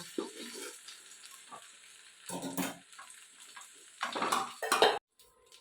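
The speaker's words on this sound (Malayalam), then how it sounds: "ചിക്കൻ ഫ്രൈ ആയി വന്നിട്ടുണ്ട് കേട്ടോ ഇനിയിപ്പോൾ ഞാനിതെടുത്ത് മാറ്റട്ടെ" Chicken frying in oil in a pan gives intermittent bursts of sizzling and scraping as pieces are moved, with quiet gaps between them, close by and moderately soft.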